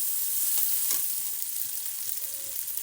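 Onions fry in oil for a vegetable dish, giving a constant bright hiss close by with light occasional stirring and no talk.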